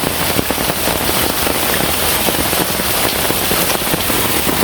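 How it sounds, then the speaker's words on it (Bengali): Heavy rain pouring down on a flooded village road in rural Bengal, a dense, loud, continuous hiss and patter of drops on water and hard surfaces, with no voices. "বৃষ্টি শুরু হইলেই এই জায়গার মধ্যে জল বাজে"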